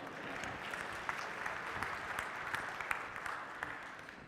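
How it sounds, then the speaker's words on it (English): A church congregation gives a round of applause during a homily, soft and fairly distant clapping that holds steady for a few seconds with occasional sharper claps standing out. "Give that little bear a round of applause."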